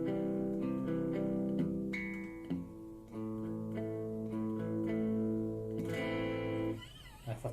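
Electric guitar run through a compressor into a Blue Monarch overdrive pedal, a sustained driven tone with ringing chords and single notes played steadily and loud, closing with a scratchy strum near the end.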